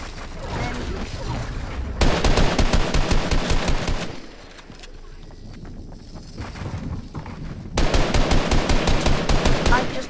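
Rapid automatic gunfire in a video game rattles in two loud, sustained bursts with a quieter stretch of scattered shots between them.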